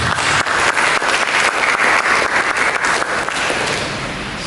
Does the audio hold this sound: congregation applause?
yes